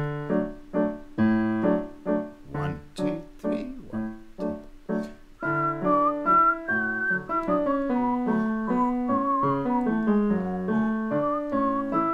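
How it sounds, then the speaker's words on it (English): Someone whistles a simple tune alone: a run of short, clearly separated notes, then longer gliding, sustained pitches, clear and close. "if you can whistle, then whistle along"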